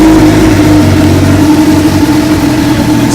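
A motorcycle engine running at a steady idle right after starting, a loud, close, continuous low rumble with an even throb and no pauses.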